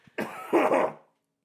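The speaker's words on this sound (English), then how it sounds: "I'm coughing" A couple of rough, throaty coughs in quick succession, close and fairly loud, then silence.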